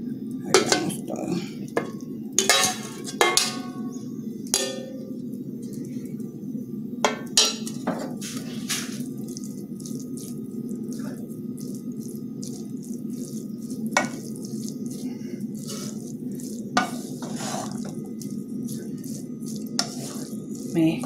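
Rice and tuna stirred together in a pan give off repeated metallic clinks and scrapes of a spoon against the metal, close and sharp, over a soft steady hum.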